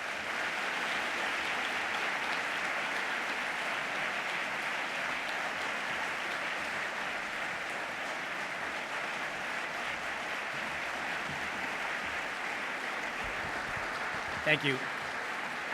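Audience applause fills Cooper Union's Great Hall in welcome for a guest speaker at the 2017 John Jay Iselin Memorial Lecture, a steady dense clapping that carries through the clip before brief thanks from the speaker near the end.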